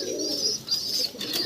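Pigeons cooing inside a loft on a pigeon farm, soft repeated coos mixed with higher chirps from young birds, close and steady with no talk.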